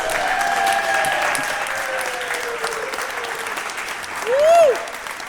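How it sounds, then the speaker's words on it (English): An audience applauds the six finalists at a poetry cup competition, a steady crowd clapping that holds for several seconds, with a brief whistle or cheer rising near the end. "round of applause for the 6 finalists!"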